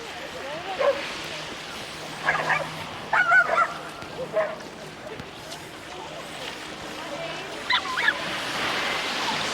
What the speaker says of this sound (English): There's the sound of the proverbial small dog trying to take on the dog that's about 10 times its size.